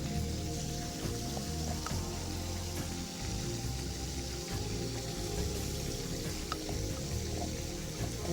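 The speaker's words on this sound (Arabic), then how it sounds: "نحط الثوم على البصل" Garlic dropped onto onions frying in oil crackles and sizzles steadily, a dense, close spatter of tiny pops with no talking.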